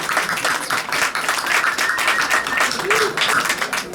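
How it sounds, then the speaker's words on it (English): A gala audience at the Asia Society's 25th anniversary event gives a round of applause for Jim Luce, a dense and fairly loud burst of many hands clapping for a few seconds, with voices mixed in. "I want to make sure everybody gives a big round of applause to the great Jim Luce."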